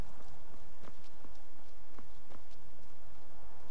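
Horse hooves clip-clop in a slow, walking rhythm in the video game Skyrim Special Edition, a few distinct hoof strikes over a low ambient bed, with no speech.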